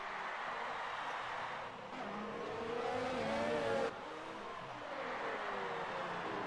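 F1 cars in traffic in the F1 2019 video game at Mexico, a steady droning engine whine with pitch rising and falling as cars accelerate, rather faint and continuous, under quiet commentary.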